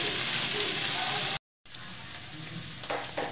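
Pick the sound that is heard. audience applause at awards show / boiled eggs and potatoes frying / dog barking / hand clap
boiled eggs and potatoes frying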